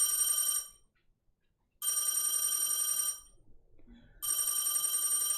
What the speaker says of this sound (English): Stay at the phone, keep on ringing.